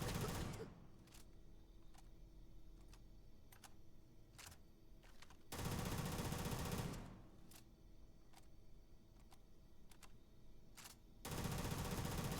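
A Halo UNSC weapon mod in Starfield fires in two sustained automatic bursts, each a loud rattling stream of rapid shots lasting over a second, separated by quieter stretches with faint clicks.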